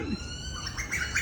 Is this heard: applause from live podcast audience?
no